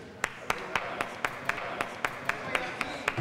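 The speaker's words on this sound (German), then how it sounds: "Da hört sich natürlich der Applaus ein bisschen mau an, wenn das Publikum nur aus einer Person besteht" A lone listener claps slowly and steadily after an Ambassade Orchester Wien recording session, about a dozen evenly spaced, crisp claps standing out clearly over a soft background murmur.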